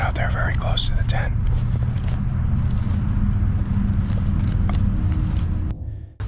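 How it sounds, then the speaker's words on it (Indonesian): Footsteps of someone walking close outside a tent at night in a forest campsite, a steady rhythmic crunching and thudding that runs throughout under a voice talking, then cuts off near the end. "somebody's walking around out there very close to the tent"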